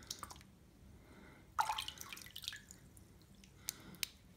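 A wet bar of soap is rubbed across a bare foot, making soft, quiet squishing and slippery wet rubbing sounds in a few short bursts over faint dripping water.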